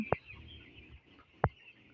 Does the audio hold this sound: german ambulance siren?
no